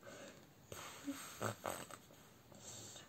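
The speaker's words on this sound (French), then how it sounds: "t'en as une qui ronfle" A person snoring nearby in a quiet room: faint, soft throaty snores and snorting breaths clustered in the middle of otherwise low background hiss.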